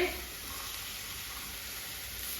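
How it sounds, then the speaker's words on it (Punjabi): Chickpeas stirred and roasting in a pan with Kashmiri red chilli, giving a continuous even sizzle and hiss close up, with no voices over it. "ਤੇ ਚਨੇ ਮੈਂ ਇੱਥੇ ਪਾ ਦਿੱਤੇ ਨੇ ਤੇ ਹੁਣ ਇਸ ਨੂੰ ਚੰਗੀ ਤਰ੍ਹਾਂ ਆਪਾਂ ਮਿਕਸ ਕਰ ਲੈਣਾ"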